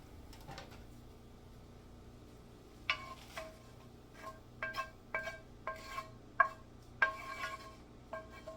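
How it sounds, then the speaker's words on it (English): Chopped onion goes into a pot of baked beans and is stirred through. After a quiet start, a run of scraping, rubbing spoon strokes and soft knocks comes close by in irregular bursts. "I'm going to add the onion in."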